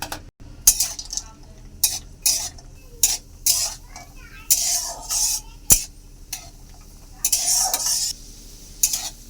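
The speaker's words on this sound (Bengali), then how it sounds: "এবারে কাজু কিশমিশ আমি হালকা করে ভেজে নেব।" Cashews and raisins fried in hot ghee in a wok, with repeated clinks and scrapes of a spoon against the pan over a faint sizzle, in short irregular bursts.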